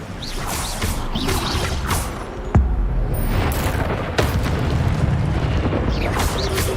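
Spellcasting in the Hogwarts Legacy video game, with the Incendio fire spell bursting amid a dense wash of booming impacts and whooshes; two sharp hits punctuate the loud, continuous game noise.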